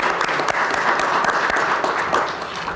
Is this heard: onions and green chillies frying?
no